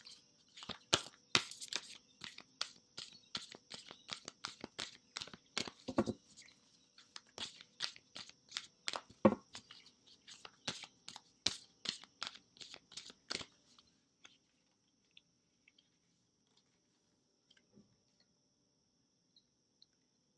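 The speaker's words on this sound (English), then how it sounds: "So we just quickly shuffle the Whispers of Love deck." A deck of oracle cards is shuffled by hand, quick close rustling and soft slapping bursts in rapid runs for about thirteen seconds, then a few faint isolated taps in near silence.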